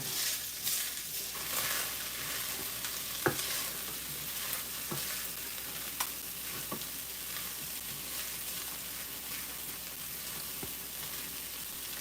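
Seasoned rice sizzles softly in a frying pan while a utensil stirs and scrapes through it, with occasional sharper clicks against the pan.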